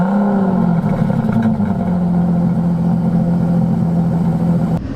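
An Aston Martin DB11 engine rumbles loudly and steadily close by, settling from an initial higher pitch into a constant idle that ends abruptly.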